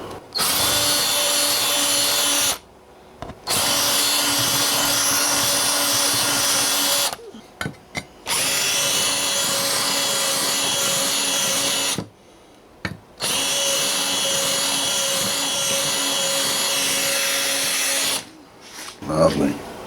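Bursts from an electric drill deburring freshly drilled holes in a Yamaha LP-1 pedal, running in three long loud stretches with brief pauses and short blips between them, steady whine close up.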